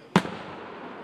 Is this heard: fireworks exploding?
yes